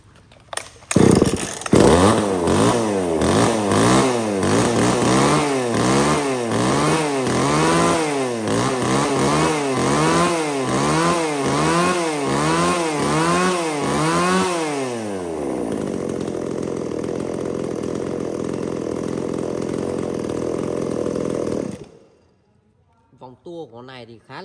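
A Japanese-import chainsaw engine (STIHL, Husqvarna, Echo Kioritz or Makita) revs repeatedly in a rapid, rising and falling rhythm, close and loud, then settles to a steady idle before cutting off.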